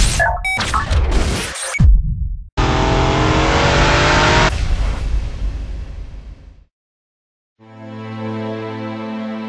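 A Porsche 911 Turbo on a racetrack roars past loudly, with tire squeal and sharp impacts, then drops to silence before a steady high engine whine returns.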